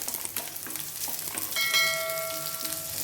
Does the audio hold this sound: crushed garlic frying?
yes